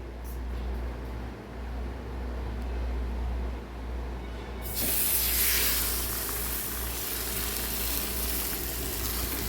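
Soft background hum, then a sudden loud sizzle as sorghum-flour dhapate flatbread dough hits a hot oiled griddle, hissing steadily and close by.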